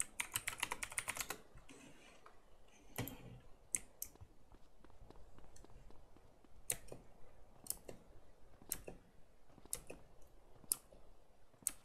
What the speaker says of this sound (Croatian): čujete moju tastaturu